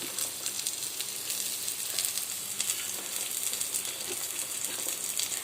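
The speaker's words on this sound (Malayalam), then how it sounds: "നല്ലപോലെ എണ്ണ ചൂടായതിന് ശേഷം സവാള ഇടുക" Sliced onions frying in hot oil, a steady, close sizzle and crackle that stays dense and even throughout, with occasional light clinks of a utensil.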